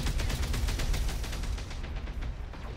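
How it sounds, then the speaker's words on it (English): Rapid autocannon bursts in the BattleTech mech combat game, a dense string of punchy rhythmic shots fired in quick succession, loud and close, fading slightly toward the end. "Autocannon shots to the legs, and the lasers go to limbs as well."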